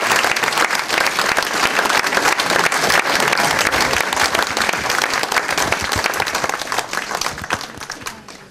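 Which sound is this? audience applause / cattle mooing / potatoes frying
audience applause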